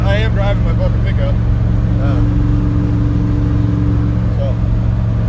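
A pickup truck project vehicle running on rear tires rolls along with a steady engine drone and road rumble heard from inside the cab, as someone talks over it.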